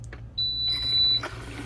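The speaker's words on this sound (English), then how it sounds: "I don't like the fact it beeps when you start it and it beeps again when it's done." A Keurig K-Cafe K-Duo coffee maker gives a single sustained high electronic beep lasting nearly a second as it starts, loud and close against a low steady machine hum.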